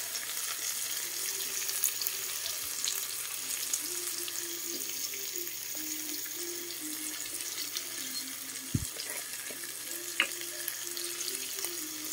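Tomato, garlic, onion and ginger being sautéed with bagoong, a steady close sizzle of frying in a pan with faint stirring scrapes and a few sharp clicks, no talking.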